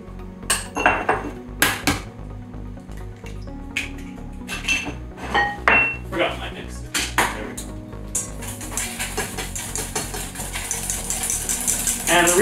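Sugar and eggs stirred in a bowl, with a whisk or spoon clinking and scraping against the sides in an irregular rhythm, close and clear, speeding into steady rapid beating toward the end.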